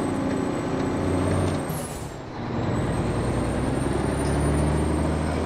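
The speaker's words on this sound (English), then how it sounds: "And the Mack-R has a mean jake brake, folks." Retro Mack-R semi truck in a truck-driving game rumbles loudly, then gives a sharp hiss of released air as the engine note dips and recovers into a steady heavy drone.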